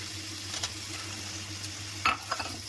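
Lentil fritters tipped into a pan of bottle gourd greens cooking with potatoes, a low steady sizzle with a brief clatter and stir near the end.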